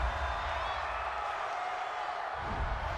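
A football stadium crowd reacts to a roughing-the-passer penalty call at a 49ers versus Seahawks game, a steady loud roar of boos and shouting that swells slightly near the end.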